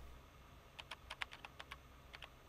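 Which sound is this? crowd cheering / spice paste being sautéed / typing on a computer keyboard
typing on a computer keyboard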